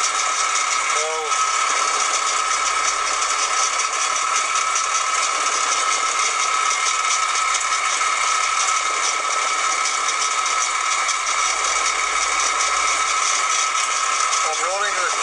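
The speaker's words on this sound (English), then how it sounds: "I'm running the cutter at 150 RPM." A milling machine runs its cutter at 150 RPM while a lantern-style tool post is made in a metal shop. The loud, steady mechanical whine and hum carry on without a break for the whole span.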